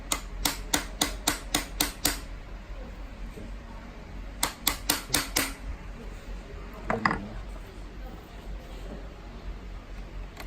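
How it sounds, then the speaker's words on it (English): Quick bursts of sharp metallic knocks as a mallet knocks a pin out of a ZERO 8, 9 or 10 suspension: a rapid series of about seven taps, a pause, then another burst of five, with a softer knock later. "Just got to face the pin down and knock against it"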